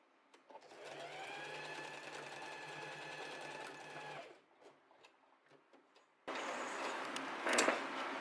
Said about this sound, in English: now we go to the sewing machine and we're just gonna sew the elastic onto the fabric